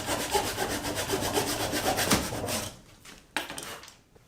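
A hand saw cuts the ends off plywood boards for a scrapwood desk, with rapid rhythmic strokes rasping close by for a couple of seconds, then stopping, followed by a single sharp knock.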